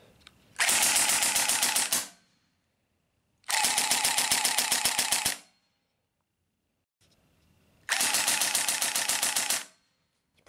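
Evanix Air Speed regulated air rifle firing full auto: three long, rapid rattling bursts of shots, each about two seconds, separated by short silences, close and loud.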